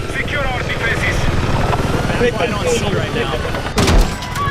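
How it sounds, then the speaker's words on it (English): A helicopter in the Battlefield 6 multiplayer video game, a steady, loud rotor drone with rhythmic chopping that persists throughout, mixed with game effects and a sharp burst near the end, while players talk over it. "This chopper should be able to help break things up a bit more."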